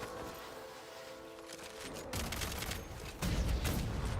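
Electric gun in Genshin Impact firing at enemies at close quarters: dense crackling bursts of gunfire that grow louder and heavier toward the end, with no talking.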